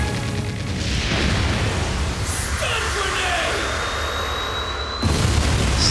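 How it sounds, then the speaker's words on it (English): A stun grenade goes off in an anime fight scene, a heavy, roaring boom that fills the whole span as a sustained wash of blast noise, surging again near the end. "Stun grenade."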